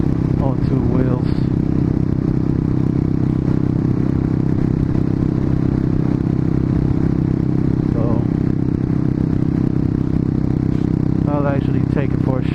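Harley-Davidson motorcycle being ridden, its engine a constant heavy low rumble under steady wind and road noise, with someone talking intermittently over it.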